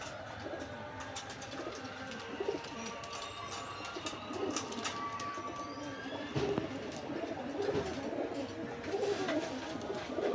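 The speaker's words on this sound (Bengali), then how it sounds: "খুব সুন্দর কোয়ালিটির কবুতর" Pakistani pigeons, including a large black-tailed hen, coo softly and repeatedly in a quiet pen at night, with faint wing rustles and low background noise.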